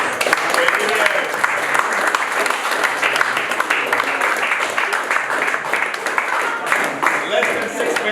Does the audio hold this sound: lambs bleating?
no